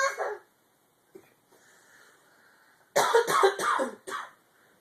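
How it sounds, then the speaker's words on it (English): A young child coughs in a quiet room: a short burst at the start, then a louder run of several close, harsh coughs near the end, with faint rustling in between. "You're coughing?"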